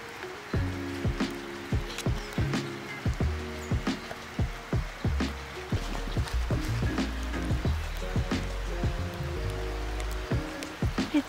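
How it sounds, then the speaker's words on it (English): Steady rain falls near a rental house in La Fortuna, Costa Rica, a dense close patter with heavier drips and splashes landing throughout, loud and continuous with no talking. "It's raining on our day one, but it's actually beautiful. It's a nice rain."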